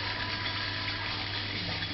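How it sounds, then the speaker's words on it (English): A pump pushes water into the inlet of an 800mm, 2.5-inch reflux still column, giving a steady close hum with a low mechanical tone under a soft, even rush of flowing water. "This is the water that goes in, comes from a pump,"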